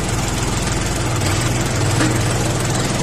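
A Jinma 24 hp mini tractor engine runs in first gear, a close, steady low diesel rumble with knocking vibration, continuous and without talk.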